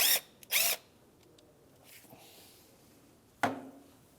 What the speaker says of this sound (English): we have one 10mm bolt holding our ignition coil in. I'm going to take that out.